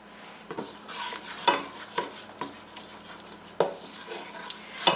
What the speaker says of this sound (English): Keep stirring, keep moving it all around so that it continues to brown evenly.